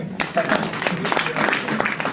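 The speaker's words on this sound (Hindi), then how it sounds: "सर के लिए एक बार तालियां बजाएंगे सर।" Seminar audience in a hall clapping for the speaker, a steady dense patter of many hands lasting a couple of seconds with a murmur of voices mixed in.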